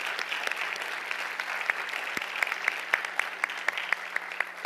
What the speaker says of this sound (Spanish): Yo quisiera pedir a todos los presentes un aplauso.